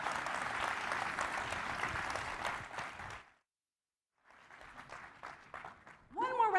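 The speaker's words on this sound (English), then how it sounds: "One more round of applause for Crypto Daddy, the one and only Toli" Conference audience applause at a Solana crypto event rings out for about three seconds, breaks off into a short silence, then returns more thinly before a voice begins speaking over it near the end.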